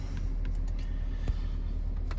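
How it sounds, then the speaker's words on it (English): A BMW F33 335d diesel coupe's engine running after start-up, a low steady rumble with a brief mechanical thump midway, fairly quiet and heard alone. "We'll also start the car up as well"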